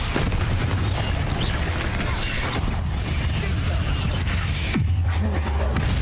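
Fiery booms from the Confringo blasting spell in the Hogwarts Legacy video game burst through a dense, continuous wash of loud game noise, with a sharp new impact near the end.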